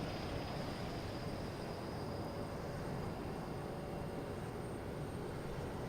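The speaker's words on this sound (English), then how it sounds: "Hope you're enjoying this, watching these crazy planes fly around." Aircraft noise around Boston Logan Airport, a steady broad distant roar that holds evenly throughout, fairly faint with no speech.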